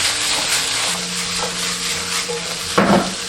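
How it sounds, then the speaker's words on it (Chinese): Loofah and seafood mushrooms stir-fried in a hot wok with scallion whites and ginger, a steady loud sizzle with scraping stirs and one sharper clatter of the utensil near the end. "把这个丝瓜跟海鲜菇煸炒一下"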